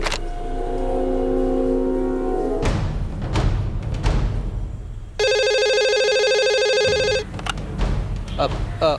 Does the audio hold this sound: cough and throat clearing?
no